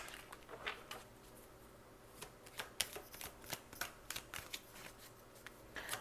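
Tarot cards are shuffled by hand in a quiet room, with a string of soft, crisp riffling bursts and taps coming in uneven clusters, close and fairly faint.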